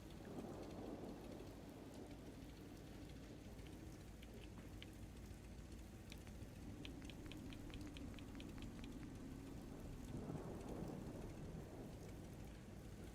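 Steady rain with rolling thunder in the video game Murkwater, a continuous dense wash of falling water with low rumbles swelling near the start and again toward the end, brief chirps flickering above.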